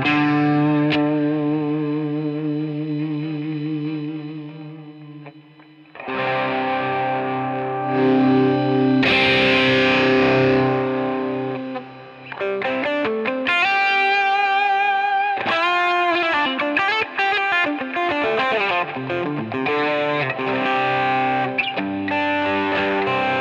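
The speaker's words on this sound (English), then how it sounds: "Distortion, prize drive." Electric guitar played through a Line 6 Helix Prize Drive distortion effect: sustained overdriven chords, then bursts of strummed and picked phrases with gritty, saturated tone and some reverb, loud and alone with no talking.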